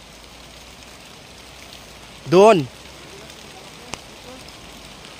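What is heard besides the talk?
heavy rain at a waterfall in Kapatagan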